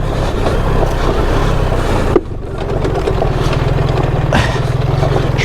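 A BMW 1300 GS motorcycle descending a steep gravel track in the West Alps, its engine a loud steady rumble with wind buffeting, a brief dip in the middle, and no voices.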